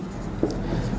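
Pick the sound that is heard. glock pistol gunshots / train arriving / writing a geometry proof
writing a geometry proof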